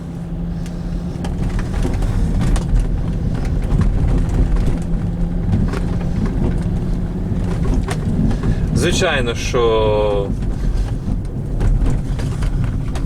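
Volvo XC90 engine rumbling steadily while driving, a continuous low, loud drone throughout, with a voice briefly speaking over it partway through.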